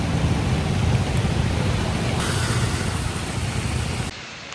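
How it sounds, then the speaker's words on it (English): Rain while riding a moped in a flood-watch downpour, a dense, steady roar of rain and wind noise with low rumble throughout, ending abruptly near the close; no talking. "It's so much fun to moped in the rain."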